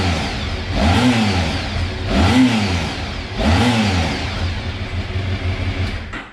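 A Honda RC30 VFR750R motorcycle engine is revved three times at close range, each blip rising sharply and falling back, then settles into a loud rumbling idle.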